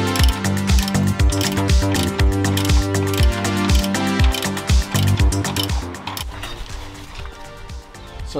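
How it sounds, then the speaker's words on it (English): A ratchet tightens the rear differential fill plug on a second-generation Mitsubishi Pajero with the 4M40 diesel, a loud, close, rapid run of clicks that continues steadily before easing slightly toward the end. "So that is the rear diff filled and the fill plug tightened up."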